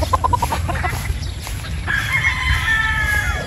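A sweater broodstag rooster crows in a long, loud call close by, preceded by a few short clucks, with steady farmyard background noise underneath.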